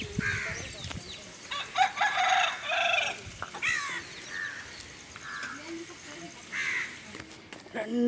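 Chickens cluck and a rooster crows inside a village home, the calls coming in short, irregular bursts close by, with faint voices in the background.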